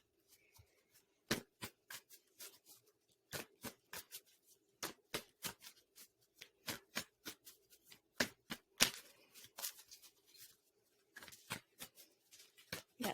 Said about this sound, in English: Last shuffle, or I'm going to grab them from the top deck.